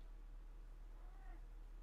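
A pet cat gives a single faint, short meow at a distance, barely rising above a low steady room hum.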